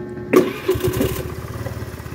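A vehicle engine cranks and catches at about a third of a second, then settles into a steady, rumbling idle, moderately close with no talking over it.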